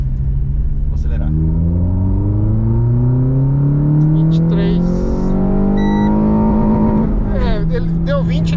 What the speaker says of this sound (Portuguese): Agora vamos ligar o modo sport. Vamos voltar a segunda de novo e acelerar.